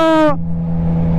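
A Triumph Trident 660 with a Firetong full exhaust gives a short, sharp rev that quickly falls away into a steady, loud idle hum, heard up close.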